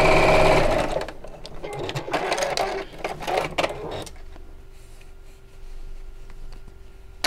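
Sewing machine stitching loudly for about four seconds, then a sharp knock as the needle strikes a pin during a bag-making session, followed by quieter handling sounds.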